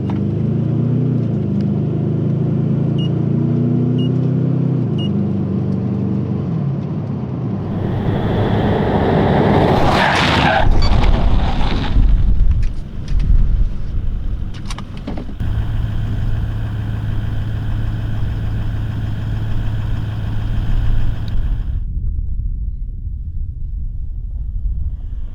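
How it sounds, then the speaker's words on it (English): A 4x4 engine revs and climbs in pitch as it accelerates toward 80 for a brake test, heavy wind buffeting the microphone, then speed drops back to a steadier drone. "I'm going to just accelerate up to 80. I've got a marker out, hit the brakes, see where we stop"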